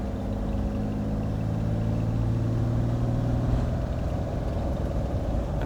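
A Lamborghini Espada V12 cruises on a road test under light throttle, giving a steady, smooth low engine drone with even rumble throughout, no revving or gear changes.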